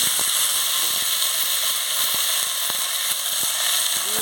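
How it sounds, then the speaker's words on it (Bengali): Loud, steady sizzling of chili, potato and onion dropped into hot oil for aloor chorchori, a dense continuous crackle with scattered sharp pops and faint scraping, close and without speech. "এবার তেল গরম হয়ে গেছে আমি লঙ্কাটা দিয়ে দিচ্ছি আলু আর পেঁয়াজ দিয়ে দিচ্ছি"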